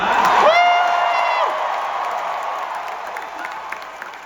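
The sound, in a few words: crowd cheering and applauding at an expo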